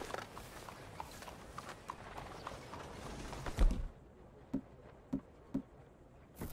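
Horse hooves in the video game Red Dead Redemption 2 clip-clop at a slow walking pace, a handful of distinct knocks, the last few sharper and spaced out over quiet background.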